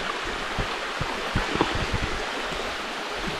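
Stream of water from Ghagra waterfall in Kaukhali, Rangamati flowing close by, a steady broadband rush with scattered light footsteps or splashes, no talk.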